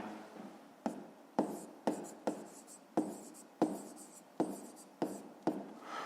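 Writing by hand, working a fifth-grade math exercise: a pen or pencil scratches across paper in about ten short strokes, each starting sharply and trailing off, quiet and close with no talk.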